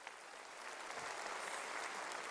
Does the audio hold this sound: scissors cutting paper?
no